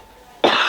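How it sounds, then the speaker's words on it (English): A single sharp, loud cough bursts out close by after a brief quiet moment, from a woman with a lingering cough while cooking in a home kitchen. "This cough just won't go away."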